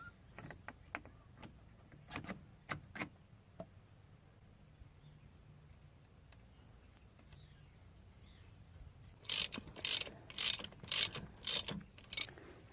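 A ratchet clicks in short bursts as nuts are snugged onto the studs of a power beyond hydraulic block on a John Deere 6400 tractor. Scattered quiet ticks come first, followed by a louder run of rapid clicking near the end.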